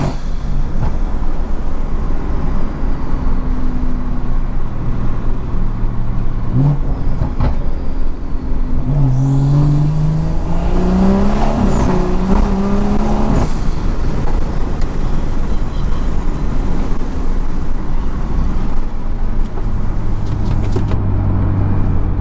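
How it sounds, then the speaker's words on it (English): BMW F30 sedan doing a burnout on new wheels and tires: a loud, sustained engine roar climbing in pitch with tire noise over a constant in-car drone, with no talk. "I'm just gonna do a burnout"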